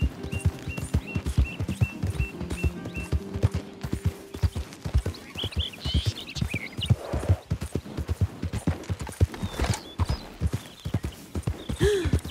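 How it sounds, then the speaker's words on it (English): Horses trotting in Red Dead Redemption 2, a steady, close clip-clop of hooves running throughout, with a faint whinny and some light ambient chirps in the background. "I see some beautiful horses."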